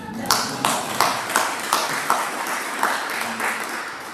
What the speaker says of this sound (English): So you owe Angelique a round of applause for my being a mission.